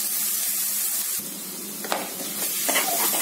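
Ginger garlic paste frying in hot oil for chicken gravy, a steady close sizzle with occasional stirring scrapes and small pops, no speech.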